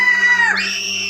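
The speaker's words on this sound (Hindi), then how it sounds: "लड़की की चीख सुनकर दादाजी उसके पीछे गए" A cartoon girl lets out a loud, sustained high-pitched scream that suddenly jumps even higher partway through, with a steady hum underneath.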